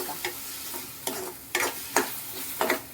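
Fresh green peas stirred in a hot pan for potato sagu, with a soft steady sizzle underneath and several sharp scraping clicks of the spoon spaced about half a second apart.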